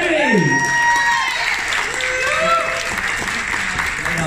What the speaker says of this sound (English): give a round of applause for Auntie Debbie!